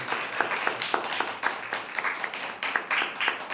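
A church congregation claps together in praise, with quick, fairly even rhythmic claps from many hands. They sound close and full for the whole stretch, and no voices are heard.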